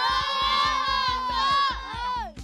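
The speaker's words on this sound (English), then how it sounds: "Give me a cheer." Young football fans cheering at a training session of the Icelandic player Eidur Gudjohnsen in Shijiazhuang: a loud, close burst of children's high-pitched shouting and whooping, sustained with rising and falling pitch, over a rhythmic low thumping beat.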